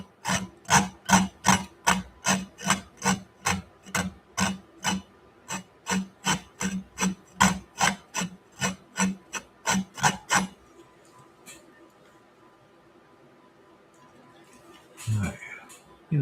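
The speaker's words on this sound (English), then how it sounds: "You scrape out as much of this paint in here as you can." Oil paint is scraped off a wet-on-wet oil painting in a run of about twenty quick, rhythmic rasping strokes, close and crisp, followed by a near-silent pause and one final scrape.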